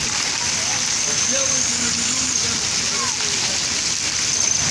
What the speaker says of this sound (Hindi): दोबारा बारिश बहुत ज़्यादा तेज़ शुरू हो गया।